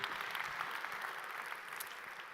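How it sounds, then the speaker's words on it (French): An audience at an award ceremony at the Grand Rex claps steadily for a few seconds, a dense, even applause heard from within the hall. "On les applaudit tous les 3, s'il vous plaît."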